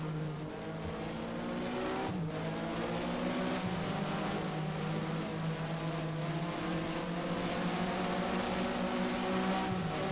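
Porsche Mobil 1 SuperCup race car at Estoril in the Race07 game, its engine under throttle with a loud sustained whine rising through revs, a sharp gear shift near two seconds, then climbing again, no voices.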